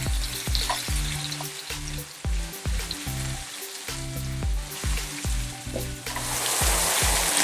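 Ground chili and paprika are stirred into chorizo frying with onion, garlic and cracked pepper for callos, giving a steady loud sizzle broken by repeated spoon scrapes and knocks against the pan.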